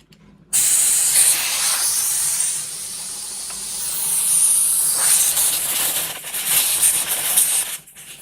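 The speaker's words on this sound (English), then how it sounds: "Time to get that airbrush" An airbrush sprays in a steady, loud hiss that starts abruptly, swells and dips in intensity for several seconds, then cuts off, heard close with no talking.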